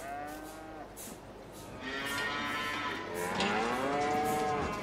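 Cattle in the Farming Simulator video game low in several long, drawn-out moos, one after another, heard clearly against a quiet farmyard background.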